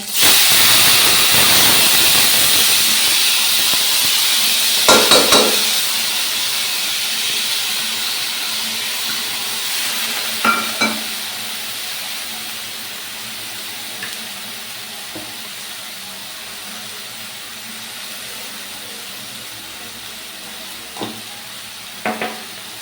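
Drained moong dal with green chillies hits a hot pan of oil tempered with spices, giving a loud initial hiss that settles into a steady, softer sizzle, with a few sharp clinks of stirring.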